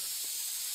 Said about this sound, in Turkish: Sıkacağım. Sıkıyorum. Sıkıntı yok. Her yeri mis mis kokutacağız şimdi.